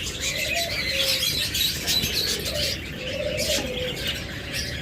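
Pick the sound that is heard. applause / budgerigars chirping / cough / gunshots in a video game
budgerigars chirping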